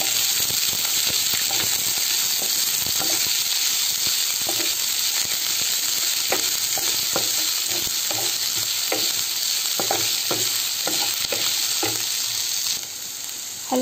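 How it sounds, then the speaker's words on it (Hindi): Onions fry in hot oil until brownish, giving a loud, unbroken sizzle and hiss close by, punctuated by regular scraping strokes as they are stirred. "फिर मैं डालूंगी प्याज, इसको तब तक मिक्स करूंगी जब तक कि ब्राउनिश ना हो जाए"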